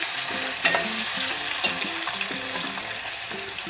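Onions frying in a pan for Agari mutton curry, a dense, steady sizzle with rhythmic stirring scrapes and a couple of sharp utensil taps, close and fairly loud with no talking.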